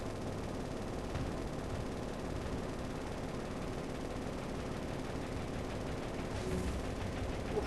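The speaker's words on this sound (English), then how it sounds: "And the casual spray of machine gun fire." Machine gun fire in the naval combat game War On The Sea, a dense, steady, rough rattle that runs without a break for several seconds at moderate loudness, with no voices.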